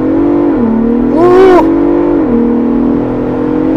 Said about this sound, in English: Looks like a good spot for an off-the-line test.